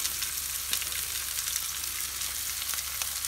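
Onion and carrot fry in a pan for a stir-fry, giving a dense, continuous close sizzle with a faint low hum underneath and no talk.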